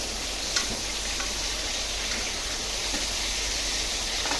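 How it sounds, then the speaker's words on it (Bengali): Chicken fries in hot oil, giving a steady, close, rain-like sizzle with faint pops and crackles, even in level and uninterrupted, with no talking. "আজকে চিকেন ফ্রাই করি।"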